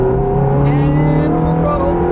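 A Ferrari F430 engine pulls hard on a race track, a loud steady rising drone with strong harmonics that holds for a couple of seconds without a break.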